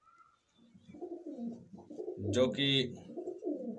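Madrasi pigeons coo on a rooftop, soft nearby coos in short phrases, with someone speaking briefly among them.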